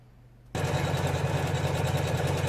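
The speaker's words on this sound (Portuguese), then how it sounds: "aqui eu vou vir com a máquina e assim que ela fazer a costura eu mostro pra vocês" A sewing machine stitching a wallet runs steadily and close after about half a second of quiet, a continuous mechanical hum with a fast, even stitching rhythm.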